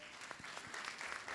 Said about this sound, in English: Give applause everyone here.